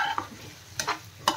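Quinoa stirred and mixed in a pan, a few short scraping strokes over a faint sizzle, close by.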